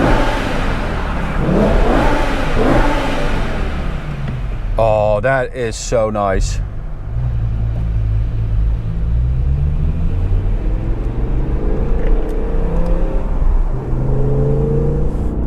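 A BMW M5 E60 V10 engine revs and accelerates with a steady loud drone, then a rising tone that pulls away and fades, heard under a person talking.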